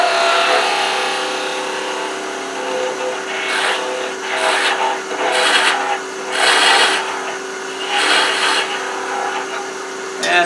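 A sharpened half-inch wrench scraping a wooden handle turning on a lathe for a cutting board, giving a continuous close rasping hiss with recurring louder scraping surges over the steady hum of the machine.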